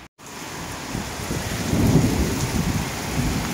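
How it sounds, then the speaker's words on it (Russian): Heavy rain pours down in a dense, steady roar that swells a little louder midway, with a low rumble underneath and no talking. "Какой дождик дубасит"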